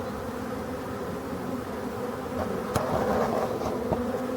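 Honeybees hum steadily at a busy hive entrance, a dense continuous buzzing swarm with a few individual bees droning close past.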